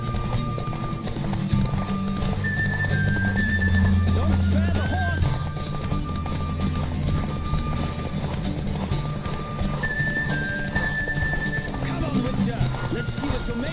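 Horse hooves galloping in The Witcher 3: Wild Hunt, a steady clip-clop running the whole time beneath game music and occasional voices.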